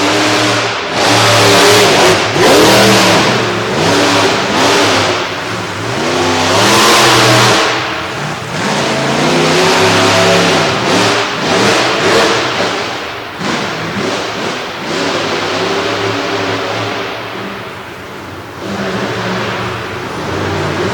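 A monster truck engine revs hard at an indoor motorsport show in a small arena, the loud roar rising and falling through repeated throttle bursts with occasional thuds and deep rumbling between them.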